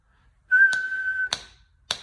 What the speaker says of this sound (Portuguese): houve um assobio e um estalo